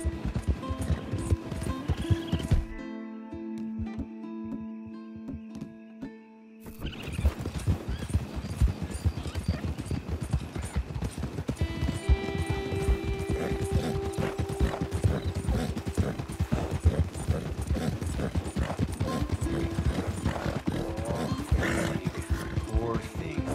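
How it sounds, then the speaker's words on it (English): Horse hooves clip-clop repeatedly and a horse neighs in Red Dead Redemption 2, the steady hoofbeats running under game sounds and occasional speech, with a brief quiet break early on. "Horse."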